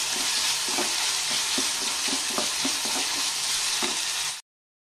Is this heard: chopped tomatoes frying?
yes